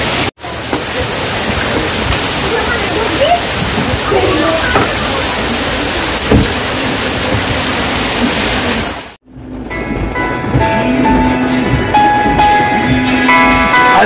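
Heavy rain pours down as a loud, dense, continuous hiss for most of the stretch, breaks off abruptly, then returns fainter and more muffled with scattered knocks.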